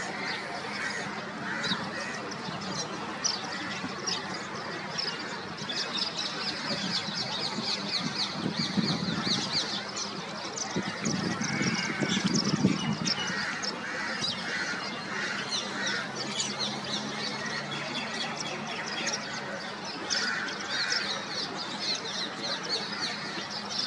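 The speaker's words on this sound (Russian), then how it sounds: "Слетелись попугаи, горлицы, а также воробьи." A large flock of parrots, turtledoves and sparrows gathers outdoors, filling the air with dense, continuous chirping and twittering at steady loudness throughout, with occasional lower calls mixed in.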